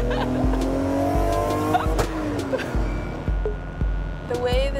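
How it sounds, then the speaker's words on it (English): A car drives hard with its engine revving and tires squealing in long rising and falling screeches, close and loud, while excited voices talk and exclaim throughout. "The way this car vibrates does not feel safe to me."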